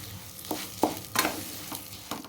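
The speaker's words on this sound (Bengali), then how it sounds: "আমি চালটা ভালো করে ভেজে নেব।" Rice grains frying in a pan over medium heat, a low sizzle broken by four or five distinct scraping stirs, close up with no voices.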